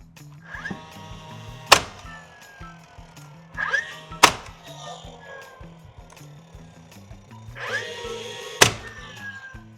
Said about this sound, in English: Our nail gun.